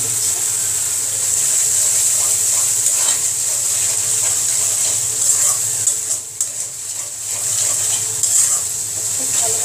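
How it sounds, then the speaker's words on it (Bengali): Soaked lentils fried and stirred in a hot pan, giving a steady close sizzle with scraping stirring strokes throughout, briefly dipping midway. "ডালগুলো, ডালগুলো দিয়ে খুব ভালো করে কষিয়ে নিব।"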